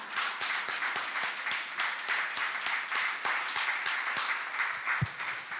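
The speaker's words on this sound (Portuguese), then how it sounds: "Aplaude ao Senhor com essas mãos." A church congregation at a Sunday service claps in a steady, quick rhythm. The sharp, evenly spaced hand claps carry on at moderate loudness, with a faint room murmur beneath.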